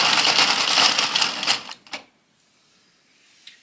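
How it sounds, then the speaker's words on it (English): An Addi Sentro circular knitting machine is cranked, giving a dense, rapid clicking rattle that stops abruptly, followed by a couple of faint clicks. "I'm just gonna crank this until it falls off of my machine."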